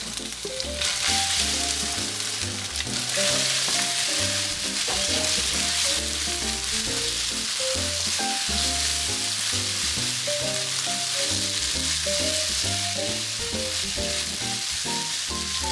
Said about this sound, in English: Then immediately add the rice mixed with the egg and stir-fry.